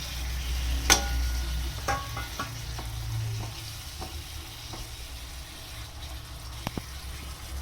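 Paneer and biryani masala sizzling in ghee in a pot, a soft continuous fry with scattered crackles and a few sharp spoon clinks as it is stirred, no talk.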